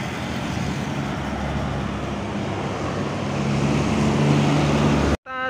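A Harapan Jaya bus cruises toward a toll road on the Trans Java route, its engine drone and road roar steady and loud from inside, a low hum rising slightly before an abrupt cut near the end.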